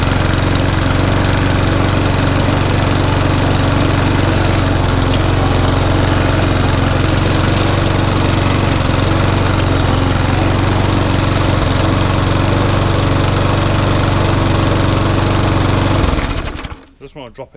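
A walk-behind lawnmower's small petrol engine, just repaired after kicking back, runs at a loud, constant drone close by for about sixteen seconds, then cuts out abruptly.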